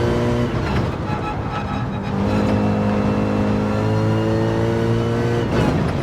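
A race car engine in a racing video game drones loudly and steadily, pitch holding and rising slightly as the car accelerates out of an infield section, with a constant whirring tone throughout.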